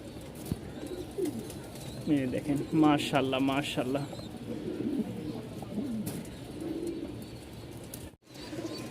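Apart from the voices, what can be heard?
male Jacobin pigeon cooing at pigeon market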